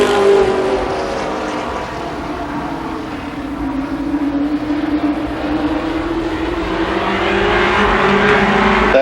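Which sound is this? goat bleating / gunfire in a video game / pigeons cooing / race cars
race cars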